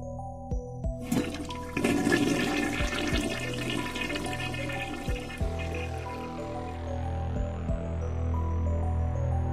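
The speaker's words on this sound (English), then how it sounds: "I jump at the sound of a running shower." Rushing water from a running shower in the video game Steins;Gate, a steady spray that surges in suddenly and keeps going, with faint background music underneath.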